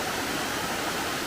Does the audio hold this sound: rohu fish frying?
no